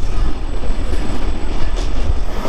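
Loud, steady rumble of a moving train heard from inside, with constant low roar and rattling.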